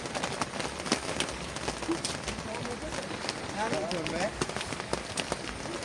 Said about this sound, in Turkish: Çok yoğun bir sağanak yağış var.